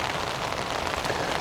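Steady, fairly light rain patters on a tent in France, a soft even hiss with scattered drops, faint and unbroken, no voices.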